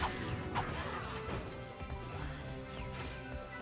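Wrench strikes on enemies in Ratchet and Clank: Going Commando, a busy run of metallic whacks and crashes layered over steady game music and mechanical clatter.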